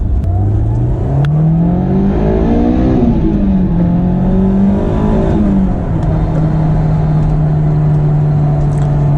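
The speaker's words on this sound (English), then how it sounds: "It's all about revving out these engines." A Honda S2000 AP1 engine revs hard, rising and falling in pitch through a couple of climbs before settling into a steady high drone, loud and close with no talking.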